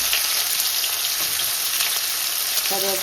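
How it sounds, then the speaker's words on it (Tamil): Cumin and onion temper in melted butter in a pan, a dense, steady close sizzle with faint clinks near the end. "இப்போ நாங்கள் வெண்ணெய்க்குள்ளேயே தாளிப்போம்"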